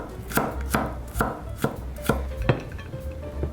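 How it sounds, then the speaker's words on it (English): A knife chops tofu into bite-sized squares on a cutting board, giving about seven crisp, evenly spaced thuds. They sound close and clear, with no voices. "Cut this into squares. You want them like in these big bite-sized pieces."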